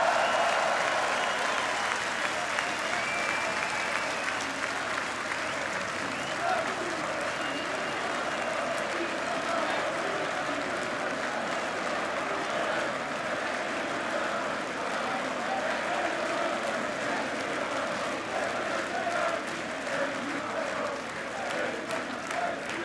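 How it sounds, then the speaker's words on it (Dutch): Sustained applause from a large crowd bidding farewell to departing player Frenkie de Jong at a club celebration, loud, dense and steady throughout with faint cheering mixed in. "Applaus."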